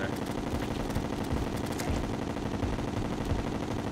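Rapid, dense cannon fire in the video game Terraria, a continuous rattling barrage of overlapping gunfire-like shots, steady and moderately loud with no pauses.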